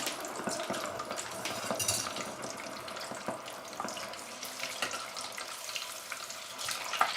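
Sandwich peppers with no breading frying in a hot pan: a dense, steady sizzle and crackle with popping spatters as they blister, close and fairly loud throughout.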